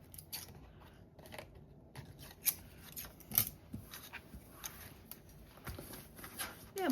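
Scissors trim a paper tag at close range with a run of quiet, crisp snips and rustles that come irregularly over several seconds.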